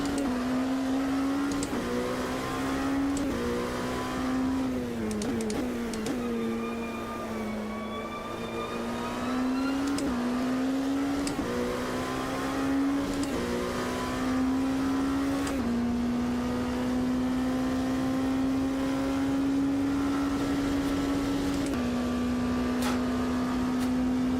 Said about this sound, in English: car seems to make a lot of noise